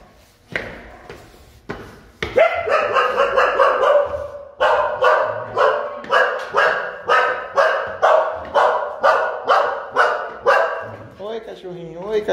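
A small dog barks repeatedly at a two-storey house in Parada Inglesa, São Paulo. A few scattered early yaps give way to a steady run of loud, close barks at an even rhythm, ending in a whine.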